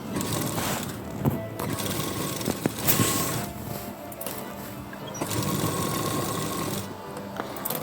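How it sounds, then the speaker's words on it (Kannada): A sewing machine stitches armhole tucks on a plain blouse in short bursts, its close rattling hum starting and stopping with brief gaps between runs. "ಆರ್ಮ್ ಹೋಲ್ ಟಕ್ಸ್ ಕೂಡ 1/4 ಇಂಚ್ನ ಗ್ಯಾಪಲ್ಲಿ ಸ್ಟಿಚ್ ಮಾಡ್ಕೊಳ್ಳೋಣ."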